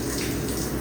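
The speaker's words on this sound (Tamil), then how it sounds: "சரியான மழை பெய்யுது." Heavy rain pours down in a steady, dense rushing hiss, loud and close, with no breaks or voices.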